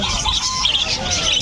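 Busy chirping and chattering of many small gray wing and rainbow parakeets at a pet market, a dense continuous twitter with a few wing flutters, fairly loud and close.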